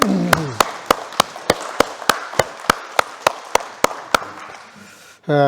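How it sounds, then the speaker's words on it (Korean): A Korean church congregation in Berlin claps together in a steady, evenly spaced rhythm during Sunday worship, about fifteen sharp unison claps, then a brief pause before a loud burst at the end. "우리 영광의 박수 한번 하나님께 영광을 올리겠습니다"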